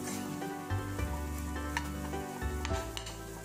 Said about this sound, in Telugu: మంచిగా ఉప్పు, కారం అన్నీ మంచిగా కలుపుకుంటే శనగలకు, ఆలుగడ్డలకు మంచిగా కలుపుకోవాలి